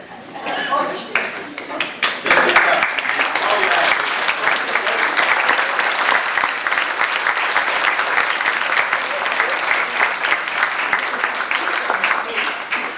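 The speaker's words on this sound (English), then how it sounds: "would all athletes please stand, and we'd like to give you one more cheer" Sustained audience applause and cheering for standing athletes at a university 50-plus reunion luncheon, a dense continuous roar of clapping from a large room that swells early and holds steady.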